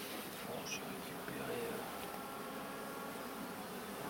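Honey bees from a secondary swarm buzz steadily around an open hive during an inspection, a soft continuous drone close by with brief faint voices in the background.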